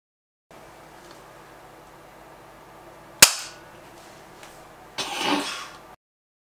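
Gunfire in the brawler video game Gang Beasts: one sharp, loud shot cracks out midway, followed a couple of seconds later by a second, longer burst, over a quiet background.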